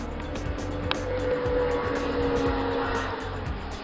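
Snowmobiles pass along a trail near an old mining engine house in Painesdale, a loud, pulsing engine drone with rhythmic track beats and a rising whine as the machines go by close.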